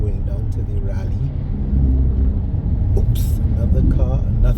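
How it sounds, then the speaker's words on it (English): A car drives along a road in St. John, Barbados, heading toward a rally, giving a low engine rumble and tire roar that swells as it passes, with a brief higher whoosh partway through. "Here's a car going down to the rally."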